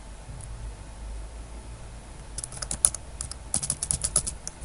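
Computer keyboard keys clatter in quick bursts of typing as a bank name is entered into a form, quiet at first and then a dense run of close, crisp taps.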